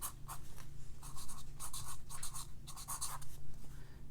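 A pen writes on a handmade watercolor Mother's Day card, giving short bursts of soft scratching strokes close up against a low steady background hum.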